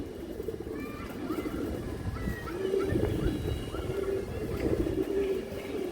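Ring-eyed pigeons of an old breeding line coo in low repeated calls over a steady background hum, close and moderately loud, with faint chirps mixed in.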